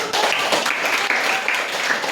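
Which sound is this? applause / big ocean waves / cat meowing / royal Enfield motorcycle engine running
applause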